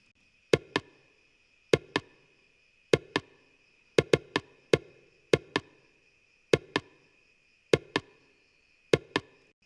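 Short, sharp tabla hits chopped from a sample repeat in a looping rhythm, often in quick pairs, dry and close with a faint steady tone humming behind.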